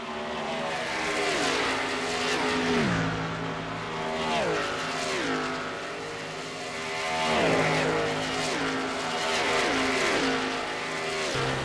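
Race car engines in the NR2003 racing video game drone and rise in repeated waves as cars cycle through gears and pass, steady and moderately loud with no talk.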